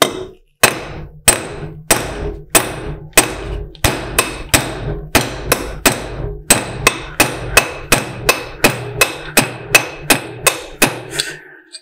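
A hammer forges a jaw harp ring from a thick 7.5 mm nail, striking metal on an anvil in a steady, even rhythm of about two loud, ringing blows per second, with no voices.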